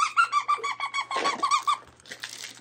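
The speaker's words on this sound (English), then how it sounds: "They all squeak." Squeaky plush dog toys shaped like chips in a little chip holder squeak in a rapid series of sharp, high-pitched squeals, close and loud, then a short pause and a few fainter squeaks.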